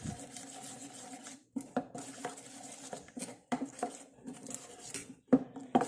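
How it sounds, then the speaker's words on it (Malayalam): A spoon works a thick natural hair-dye paste around a bowl, producing repeated close scraping and clinking strokes in uneven bursts separated by brief pauses. "നല്ല പോലെ ഇളക്കിയിട്ടുണ്ട്."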